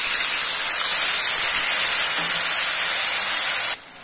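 Onion-tomato puree hits hot oil in a pan for a fish curry with dried red chillies, giving a loud, steady, hissing sizzle that cuts off sharply near the end.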